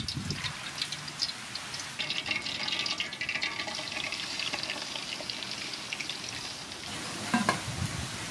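Pieces of pork fry in hot soybean oil with a steady, dense sizzle and occasional stirring and splashing noises, close by and continuous, with no talking.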